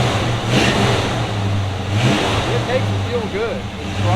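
A project car engine revving on the throttle, a mid-pitched motor rising and falling in repeated blips close by, with people talking over it.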